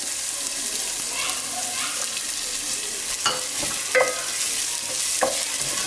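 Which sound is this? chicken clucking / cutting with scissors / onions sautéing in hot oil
onions sautéing in hot oil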